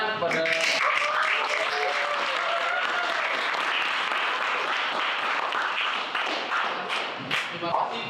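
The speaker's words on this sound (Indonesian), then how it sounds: "Mari kita sekali lagi berikan tepuk tangan kepada" An audience at an Indonesian school presentation session gives a round of applause, with dense clapping, a few thumps and some voices mixed in, fading slightly near the end.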